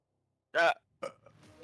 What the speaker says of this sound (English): that was a burp over there